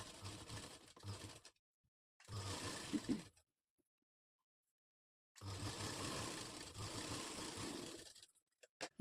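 Sewing machine stitching blouse fabric at a quarter-inch margin, running in three separate bursts of steady mechanical whirring with silent pauses between them.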